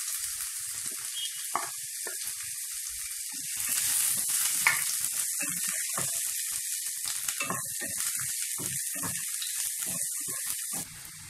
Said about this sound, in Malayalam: ഇനി ഇതിലേക്ക് ഇഞ്ചി, പച്ചമുളക്, സവാള എന്നിവ ഇട്ട് നന്നായി വഴറ്റിയെടുക്കാം.